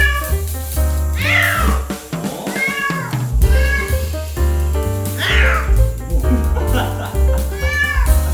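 A cat yowls repeatedly in drawn-out, agitated meows over steady background music, the cries loud and close with short gaps between them.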